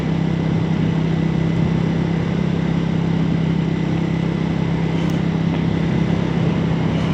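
A 2026 Triumph Speed 400 motorcycle engine running steadily while riding, a continuous mid-pitched hum with constant wind rush, held at an even level with no voices.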